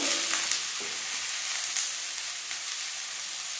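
Ground cumin and spices frying in a pan for a fish curry with cauliflower, a steady broadband sizzle running throughout with a few soft stirring scrapes near the start, close and fairly loud.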